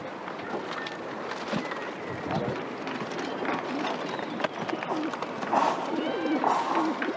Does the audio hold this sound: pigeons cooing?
yes